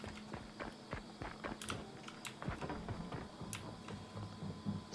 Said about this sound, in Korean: 제 앞 건물 발걸음 소리.